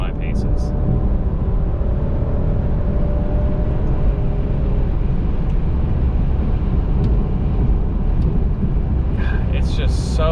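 A 2-liter four-cylinder turbo Alfa Romeo Giulia Ti Sport drives along with a steady low engine drone, road rumble and wind noise, heard from inside the cabin; faint clicks come near the end.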